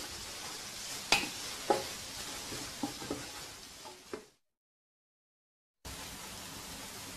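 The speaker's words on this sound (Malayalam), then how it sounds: "ഇതിപ്പോൾ നന്നായിട്ട് സോട്ടായി വരുന്നുണ്ട്." Vegetables for egg fried rice sauté in a pan with a steady hiss and sizzle, broken by a few sharp clinks of stirring, then a brief silence before the sizzling resumes.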